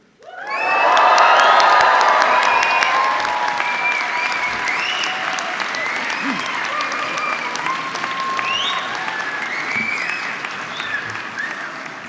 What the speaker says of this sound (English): after 3, the whooping and the cheering